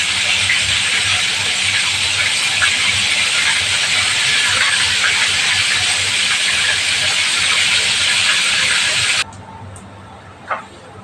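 Fish frying in a pan for a fish menudo dish, a steady loud broadband hiss of hot oil running continuously, then abruptly cutting off near the end and leaving a quiet room with one small knock.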